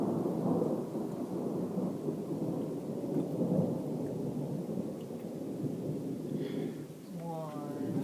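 A thunderstorm with a steady roar of rain and rumbling thunder fills the scene continuously, broad and close, with the rain easing slightly near the end.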